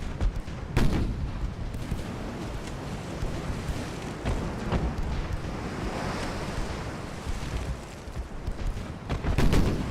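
Rapid fire from many 2-inch naval guns in Ultimate Admiral: Dreadnoughts, a French fleet of 1890, heard as a dense rumbling barrage with sharp cracks punching through roaring wind and surf-like noise, steady and heavy.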